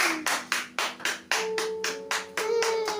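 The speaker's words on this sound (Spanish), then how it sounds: "Denle un aplauso al Eterno en esto." Church congregation clapping in a steady rhythmic beat, about a dozen sharp, evenly spaced claps at moderate volume, with a faint sustained tone underneath.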